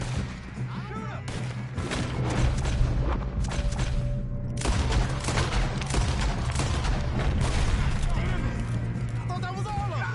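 Gunfire in a Red Dead Redemption 2 chapter-one shootout in Colter, played on PS5: dense, continuous shots and booms under an ongoing game score, with voices talking throughout.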